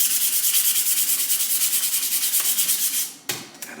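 Hand sanding of a 1978 Kawasaki KZ1000 Z1R motorcycle part with sandpaper, a steady rapid back-and-forth rasping rubbing close up that runs continuously, then stops with a few brief scrapes and handling noises at the end.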